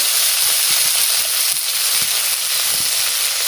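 Potatoes frying in a pan with cumin, black pepper, onion, garlic and ginger give a steady, loud, dense hiss and sizzle that holds evenly throughout, with no voices.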